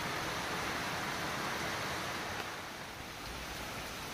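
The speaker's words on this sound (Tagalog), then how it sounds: "Lumakas po bigla yung ulan." Heavy rain coming down suddenly on an afternoon makes a dense, steady broadband hiss, loud and unbroken like rushing surf, with no voices over it.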